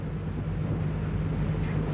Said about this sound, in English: You can hear the engines in the background there throbbing away